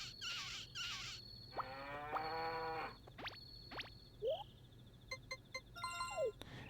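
A cow moos in the Harvest Moon 64 farming video game, one short synthesized animal call among other brief game chimes and blips over a quiet background.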